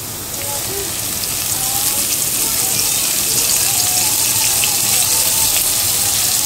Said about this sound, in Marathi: आता मी यात टाकणार आहे तेल